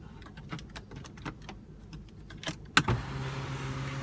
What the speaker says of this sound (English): and then of course you have your sunroof